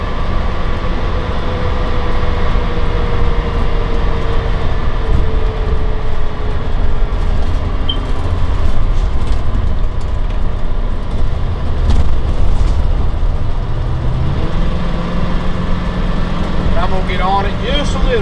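Steady low road rumble and engine drone inside a 2004 Winnebago Adventurer 35U Class A motorhome at highway speed on the interstate, continuous throughout with a gear or engine pitch shift near the end.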